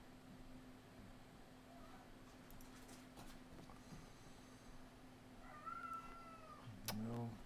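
An indoor house cat meows a few times, quiet at first and then with louder, drawn-out meows near the end, with faint talking in the background.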